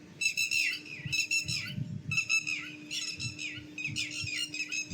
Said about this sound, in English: I am disturbed by birds.